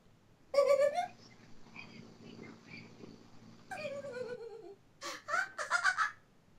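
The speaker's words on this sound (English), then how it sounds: "The gasps!" Characters in the video game Zero Escape: Virtue's Last Reward gasp sharply several times, with breathy vocal bursts and a quick run of gasps near the end over a quiet background hum.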